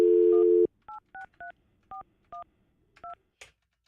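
A long steady tone, then a series of short paired touch-tone beeps at uneven intervals, closing with a brief click; loud and close, with no voices.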